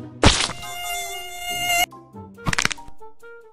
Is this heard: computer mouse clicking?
no